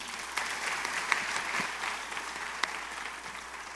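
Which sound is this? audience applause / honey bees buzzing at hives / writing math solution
audience applause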